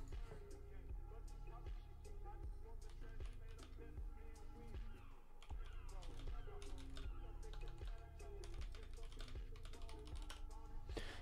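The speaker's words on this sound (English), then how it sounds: "It might probably be because my keyboard is also pretty loud." Loud, clattering computer keyboard typing runs steadily throughout at close range, dense rapid keystrokes layered over a busy game soundtrack with a voice talking at times.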